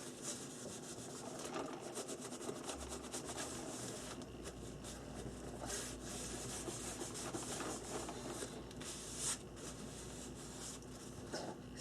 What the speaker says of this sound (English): I like to rub it to make sure that there's no rough edges or anything.